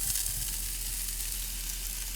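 Oil sizzles loudly and steadily in a hot Lodge cast iron enameled Dutch oven, a dense continuous hiss with no pauses.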